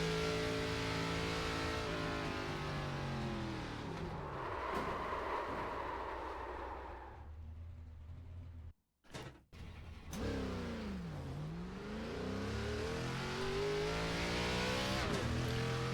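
An ARCA stock car engine in the iRacing game revs loud and close with a rising, falling pitch, drops nearly silent for a moment mid-lap, then roars back to full power.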